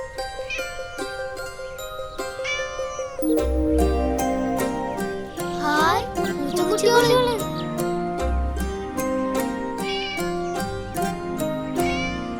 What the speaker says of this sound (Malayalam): തണുത്തിട്ടാവും പാവങ്ങള് കരയണത്.